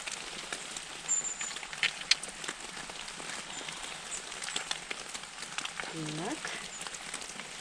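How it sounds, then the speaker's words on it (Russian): Steady heavy rain pours down around a forest cabin on a winter day, a dense continuous hiss with scattered drops close by, while a person briefly speaks. "Вот так вот зарядил дождик."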